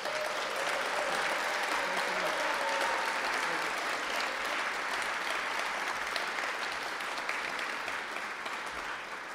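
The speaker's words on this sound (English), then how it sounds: "Can we please give all of our honorees a big round of applause?" Steady, full applause from a large audience at an annual mayor's arts awards ceremony honoring recipients, an even roar of clapping that holds throughout with a faint voice early on.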